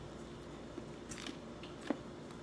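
Faint crunchy bites and chewing of homemade nuggets, a few soft crackling crunches over a steady background hiss.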